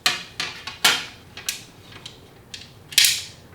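Screws are tightened to mount a fender on an E-Cells Kings Crown e-scooter. A close ratcheting tool gives short, bright bursts of clicks at uneven intervals, then pauses.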